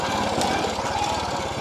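Eddy Lejeune's Honda motorcycle engine braking, a close, loud, pulsing mechanical rumble with a steady rapid beat throughout.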